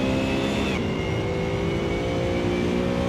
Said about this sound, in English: I don't know what kind of exhaust sound is that. It sounds more like a plane than a car.